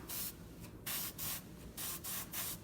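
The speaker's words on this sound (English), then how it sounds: "So don't be spraying a ton of paint up in here, just you're just tinting it." Short bursts of spray paint tint the inside of a whitetail deer mount's ear during taxidermy finishing, about six hissing puffs in an even rhythm with brief pauses between them, close and clear.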